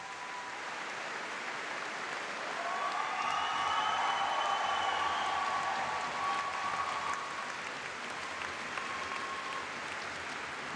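Steady applause from a large crowd at the ice dance free dance, ISU European Figure Skating Championships in Kaunas, swelling slightly in the middle with some whistles or cheers over the clapping.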